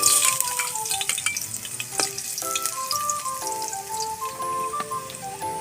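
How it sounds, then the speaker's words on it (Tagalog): Garlic sizzles in hot cooking oil with a bright, steady hiss, and stirring scrapes and light ticks are heard up close. A loud burst at the start settles into a constant frying crackle with no voices. "Meron na po tayong kainit na mantika. Ilalagay lang tayo ng bawang."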